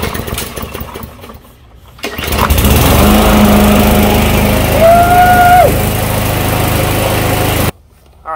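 A Troy-Bilt 21-inch 140cc 500e Series gas push mower is cranked by recoil pull, catches and settles into a loud, steady engine drone close by, then cuts off abruptly near the end.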